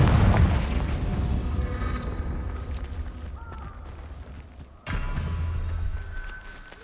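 Confringo fire spells blasting in the video game Hogwarts Legacy: heavy, booming bursts that roll into one another, then a sudden fresh blast hits hard partway through and slowly fades.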